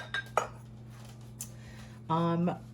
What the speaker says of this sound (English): now let's cut our tuna